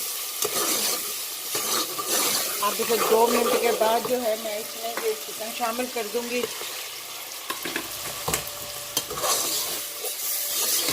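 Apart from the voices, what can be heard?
golden onions and tomatoes frying in a pan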